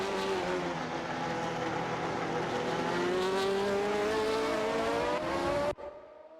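Race car engines in an AI racing video game: a loud, continuous engine whine climbing steadily in pitch as the car accelerates, then cutting off abruptly near the end, leaving a faint trailing tail, with no voices.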